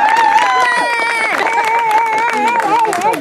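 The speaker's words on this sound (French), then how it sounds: "je vous laisse m'applaudir." Live audience applause and cheering for a singer at a concert, a dense wash of clapping and crowd voices held steady throughout, with a singer's tonal vocal line running above the crowd noise.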